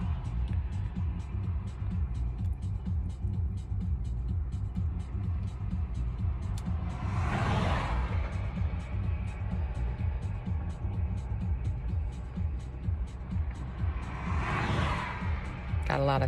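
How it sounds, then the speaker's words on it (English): Road traffic passing by outdoors, a steady low engine rumble with two vehicles swishing past in turn, the second fainter, under continuous talk. "Got a lot of traffic here suddenly."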